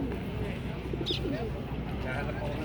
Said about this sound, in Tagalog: Yan po yung mga kalapati na malapit sa akin.